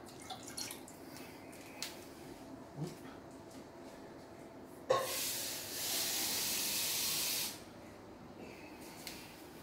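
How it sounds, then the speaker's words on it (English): Water poured from a jug into a python's water bowl, a steady hissing pour of about two and a half seconds midway through, after scattered small knocks and drips, with no talking. "Let's just fill up the water bowl."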